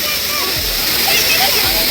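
A waterfall in Nainital, Uttarakhand, giving a loud, steady roar of splashing water with voices talking over it.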